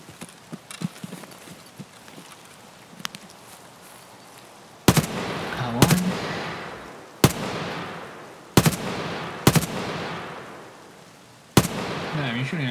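Single gunshots in Escape From Tarkov ring out one at a time, sharp cracks with echoing tails that sound fairly distant, over quiet background with faint talk.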